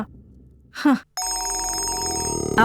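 A telephone rings indoors with a steady, loud electronic ringtone that starts after a short vocal sound and continues without a break.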